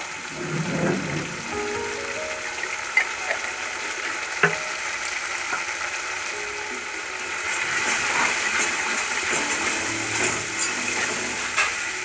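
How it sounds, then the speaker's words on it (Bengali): Fish masala sizzling and frying in a pan with turmeric powder and mustard as it is sautéed and stirred, a steady hiss throughout with occasional scraping clicks, close and fairly loud with no voices. "সামান্য কষিয়ে নেব, দিয়ে দেবো হলুদের গুঁড়া"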